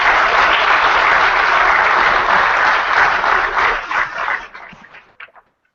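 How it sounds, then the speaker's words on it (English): Loud, dense applause from a retreat audience fills the room steadily, then thins into scattered claps and fades out near the end. "we just want to give you all a great applause"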